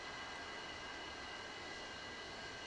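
A Su-35S jet engine idles at about 70% RPM during a cold start in a flight simulator game, giving off a steady, unbroken whine over a broad, even rush of air.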